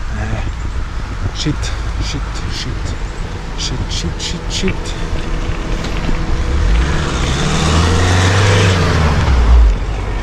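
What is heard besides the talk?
car passing on a mountain road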